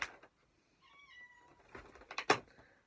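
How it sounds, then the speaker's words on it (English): A pet cat meows indoors with a drawn-out, tonal call, followed by a few louder clattering bursts close by. No one speaks. "I'm being summoned by my cat."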